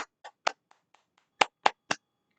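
Close, sharp hand claps from one person in a quiet room: a few uneven claps, a pause, then three firm claps in a row.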